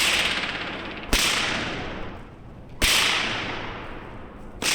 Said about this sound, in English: a 5-foot nylon performance hybrid whip, and I gave it a few cracks in a tunnel